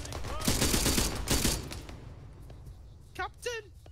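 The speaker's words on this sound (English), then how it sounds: "You're taking fire from the west." Bursts of rifle and automatic gunfire crackle in the military video game Arma 3, loud rattling volleys in the first half, then quieter as a voice speaks over a few distant shots.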